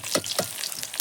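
Chopped onions go into hot oil already seasoned with cumin seeds and frying chilli, giving a steady close sizzle with a few sharper crackling bursts, no voices over it.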